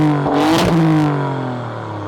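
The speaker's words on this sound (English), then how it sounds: "let's hear what that exhaust has to say in race mode." An Alfa Romeo Stelvio Quadrifoglio in race mode gives a short, sharp exhaust rev that rises and falls back to a rumbling idle, loud and close with no talk.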